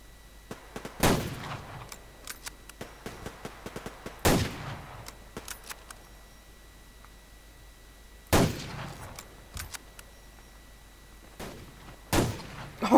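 Gunfire from the online shooter Survarium: four loud, sharp rifle shots spread across the stretch with ringing decays, plus scattered fainter pops and clicks between them and no talking.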